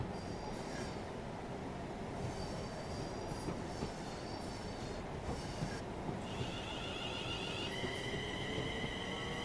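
A commuter train in Train Sim World 5 runs on the Manchester Airport line with a steady rolling rumble and rail noise, faint high wheel squeals and whines appearing intermittently, no talk.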